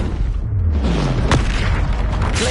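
Confringo blasting curse explosion in Hogwarts Legacy, a loud, close, deep boom with a rumbling tail and a sharp crack partway through, amid ongoing game combat noise.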